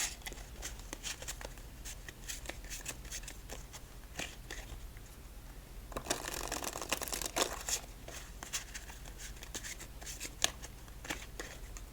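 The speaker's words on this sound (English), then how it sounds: "So let's give this deck a quick shuffle and begin game number 7." Cards riffle and snap in a quiet run of rapid clicks, with a denser burst of shuffling in the middle, close by and without talk.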